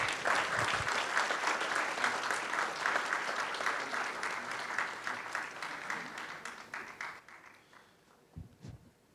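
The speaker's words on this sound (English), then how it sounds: "let's give Tun a big applause" At a Malaysia-Japan forum and book launch, the audience claps for Tun Dr. Mahathir Mohamad: a full round of applause that thins and fades over several seconds, leaving a few scattered claps near the end.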